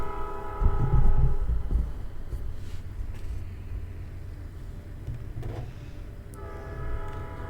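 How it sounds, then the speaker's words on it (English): A train rumbles heavily along nearby tracks with a loud, low roar that swells early, while a sustained horn sounds at the start and returns near the end. "Hear the train? I'm near the tracks."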